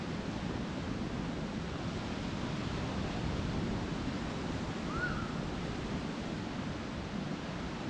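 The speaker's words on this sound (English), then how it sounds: "hence we've got the heavy seas" Heavy seas wash onto the shore at Paguera, Mallorca after days of wind, a steady broadband roar of surf with gusty wind across the microphone and no voices.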